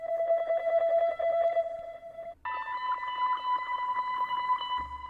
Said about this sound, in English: So in that same bank, I found a second chop that sounds like this.